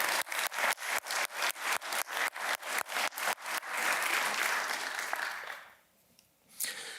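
Applause from a crowd, opening with steady rhythmic clapping that swells into dense clapping before fading out.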